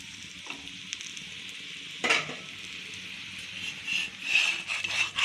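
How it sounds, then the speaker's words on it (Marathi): Paneer Frankie rolls shallow frying in oil on a hot tawa, with a soft steady sizzle broken by a few sharper crackles and scraping stirs, close and fairly quiet. "मी थोडं इथे तेल टाकत आहे आणि आपण आपले जे रोल आहेत थोडेसे शालो फ्राय करून घेऊया"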